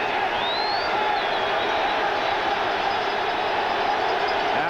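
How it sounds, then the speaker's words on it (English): A Cincinnati football stadium crowd at a 1989 Oilers–Bengals game roars steadily and loudly as the fans rise, a dense continuous wash of cheering with no breaks. "Now the Cincinnati crowd rises up"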